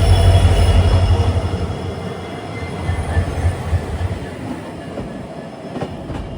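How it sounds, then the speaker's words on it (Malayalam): The Rajdhani Express from Delhi Anand Vihar to Sairang in Mizoram rolls past with two banker locomotives at the rear, a loud rumble of wheels on rails with clacking and faint squeals that fades toward the end, no talking. "ഡൽഹി ആനന്ദ് വിഹാറിന്ന് മിസോറാമിലെ സൈറങ്ങിലേക്കുള്ള രാജധാനിയാണിത്."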